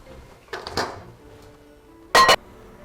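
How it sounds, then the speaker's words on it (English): A few quiet clunks of a bowl of peanut brittle mixture being set down in a microwave, then a sharp, bright clatter and thump of the microwave door snapping shut. "So I'm going to pop this back in the microwave."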